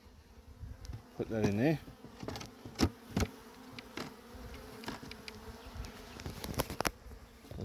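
Honeybees from a swarm buzz close by around a white sheet and frames of drawn and brood comb, a steady insect drone under brief speech and a few sharp knocks and handling thuds.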